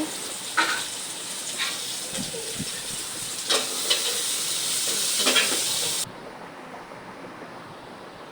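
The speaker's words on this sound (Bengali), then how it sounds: "যে পেঁয়াজ দিয়ে দিতেছে। একটু তেল দিয়ে দিল।" Onions sizzle steadily in a little oil, a dense broadband crackle running for about six seconds with occasional louder bursts and clinks, then dropping abruptly to a quieter background hiss.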